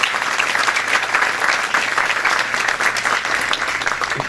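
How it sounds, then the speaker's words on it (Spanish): Audience at an engineering lecture applauding engineer Walter Piazza de la Jara, a dense, steady burst of clapping from a full room that stays loud throughout. "Reiteramos un voto de aplauso, por favor, para el ingeniero Walter Piazza de la Jara."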